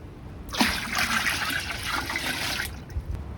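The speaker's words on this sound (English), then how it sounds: "And here goes the 5th gallon of oat milk." A gallon of oat milk glugs and splashes as it is poured into a brewing pot for an oatmeal brown ale, a steady close-up stream lasting about two seconds before it stops.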